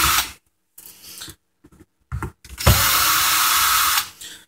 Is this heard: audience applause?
no